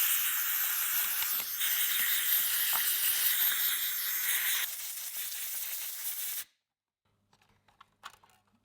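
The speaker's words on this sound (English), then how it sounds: "And I use some compressed air to dry it out." Compressed air hisses in a loud, steady blast into a battery compartment for several seconds, changing tone partway through, then cuts off abruptly, leaving faint small clicks and handling noises.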